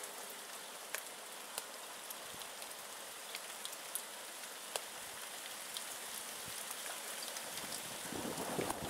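Rain falling during a thunderstorm makes a steady, soft hiss with scattered sharper drops close by; no thunder stands out.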